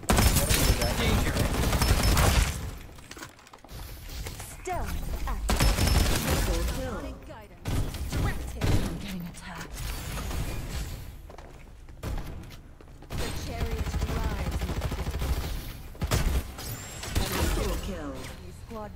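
Gunfire in the video game Farlight 84, dense bursts of shots and fusillades with thuds, loud and near, broken by short lulls and mixed with talking throughout.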